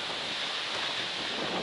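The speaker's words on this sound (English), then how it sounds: "And it is super windy" Strong wind blows steadily across an Appalachian Trail hiking path, a loud broadband rush buffeting the microphone with no voices.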